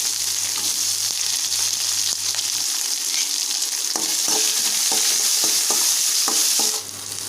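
Large onion frying in hot oil with fried urad dal, a steady close sizzle with irregular stirring clicks of a spoon against the pan.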